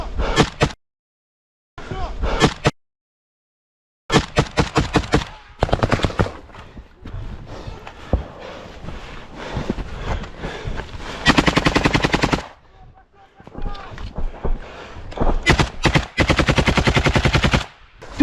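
Automatic rifle fire rips out in loud, close bursts of rapid shots during an intense battle in Ukraine, with short pauses between volleys and shouting voices heard amid the gunfire.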